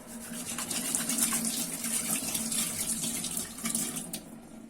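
Tap water runs steadily into a kitchen sink while polished silver is rinsed under it, a continuous close splashing hiss with small fluctuations and no speech.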